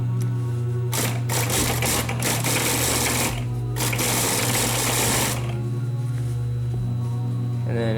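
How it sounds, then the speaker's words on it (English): A sewing machine stitches a fabric seam, running loud and close in long continuous bursts with short pauses between runs, set against a steady low hum. "you stitch this down at a 1/2 inch"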